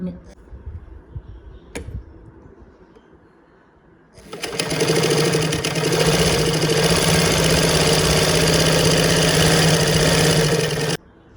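Sewing machine stitching a boat neck blouse: after a few quiet seconds with faint handling, the motor starts and runs in a steady, loud, close whir for about seven seconds before stopping abruptly.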